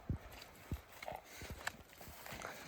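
A six-year-old working mare's hooves clip-clop on hard ground at a slow walking pace, several distinct thuds spaced irregularly, fairly close, with faint background noise.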